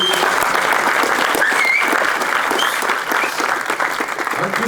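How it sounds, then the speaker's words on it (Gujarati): An audience at a Gujarati film premiere in Ahmedabad claps for a filmmaker, a loud dense burst of applause that holds steady and then thins slightly toward the end. "એના માટે અંકિત ભાઈ માટે બહુ જ બધી તાળીઓ માંગીશ"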